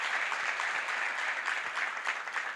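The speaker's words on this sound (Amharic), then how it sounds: "አጨብጭቡላቸው።" An audience at a sales training session applauds, a steady dense patter of many hands clapping that holds evenly throughout, with no talking.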